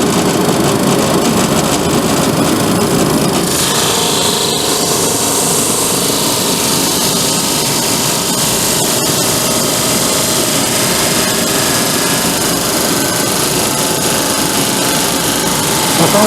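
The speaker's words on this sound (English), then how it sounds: "we're going to take this out and then we'll see if we can run it through the drum sander." A drum sander runs steadily as it sands a wooden cutting board, a loud continuous mechanical roar and whine holding nearly level throughout with no voices.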